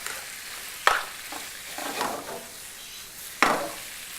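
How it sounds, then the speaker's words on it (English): Eggplant dry stir-fries in a pan with a soft continuous sizzle, broken by a couple of sharp utensil scrapes and stirring noises close by. "So just kind of like a dry stir fry, but yet really, really tasty"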